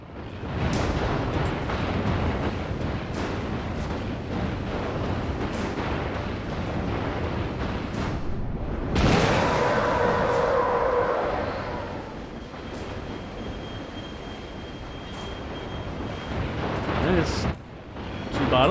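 A thrown bottle bursts in Alone in the Dark (2008), a loud explosive blast midway that rumbles and slowly fades over steady game ambience and other effects.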